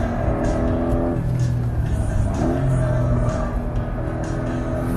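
A 2025 Porsche 911 GTS engine accelerates hard on a racetrack, a loud steady drone from inside the cabin that climbs in pitch across gear changes, with a person talking over it.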